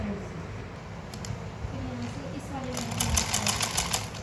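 A sewing machine stitches a samosa-cut pajama in a soft, steady whirring run with a faint rhythmic clatter, fairly quiet and close, while someone talks throughout.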